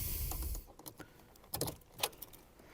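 Keys to a Porsche 997 GT3 RS jingle and clink in a few short bursts, close by, with a quiet rustle between them and no talking.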